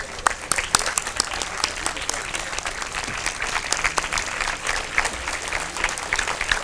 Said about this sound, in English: may I please request you to join me in giving a standing ovation to Amina